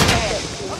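Gunfire in a shooter video game: a brief, loud burst of shots with a booming, echoing tail.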